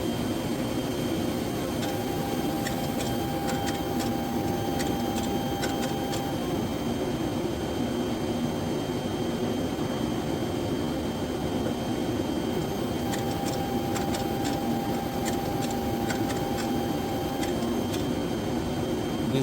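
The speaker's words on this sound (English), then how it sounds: "The clean cap procedure requires you to drop some solution into the cap so it will" A Mimaki ML16 printer running its clean cap procedure gives off a steady mechanical whir and hum throughout, with brief bursts of faint ticking at the start and again later, all close and without voices.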